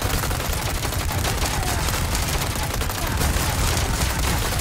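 Dense, continuous gunfire from Resident Evil 4 Remake, with overlapping shots forming a steady loud barrage throughout and no clear pauses.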